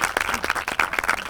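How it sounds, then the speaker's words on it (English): A small audience claps for a citywide poster contest winner at an award event, a brief burst of close, uneven individual claps with no talking. "let's give him a big round of applause for being first place citywide"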